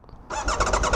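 A motorcycle engine, a bike with recurring problems, cranks with a rhythmic, pulsing churn that starts abruptly after a quiet moment and keeps going without catching, loud and close.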